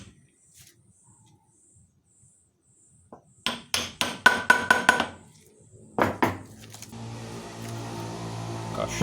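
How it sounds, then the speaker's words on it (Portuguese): A Ford Focus Mk1.5 drive axle is hammered into place in a vise, with a wood block protecting the far end: a quick burst of about six sharp metallic blows, then a few more strikes and a lingering clatter, with no talk. "Tenho certeza eu vou colocar na morsa e bater."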